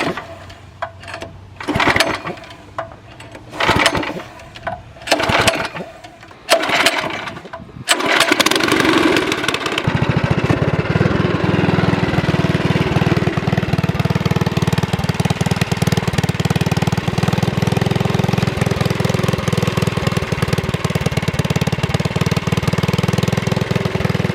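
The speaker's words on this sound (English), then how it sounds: "I've never heard a mini bike with this specific pipe on it" A mini bike engine fitted with a new exhaust pipe is pulled over several times in sharp bursts, then fires and runs at a steady, loud, buzzy idle that continues to the end.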